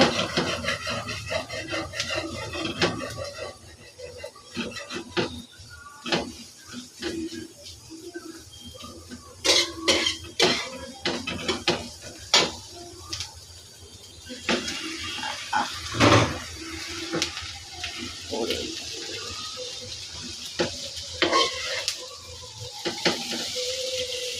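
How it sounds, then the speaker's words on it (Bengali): Rice and egg are stirred and tossed in a greasy pan on the stove, producing intermittent scraping, clinks and bursts of sizzling that rise and fall unevenly over a soft background hiss. "ডিমটা দিয়ে দিয়েছি, ভালোভাবে এখন ভাত মিশিয়ে নেব"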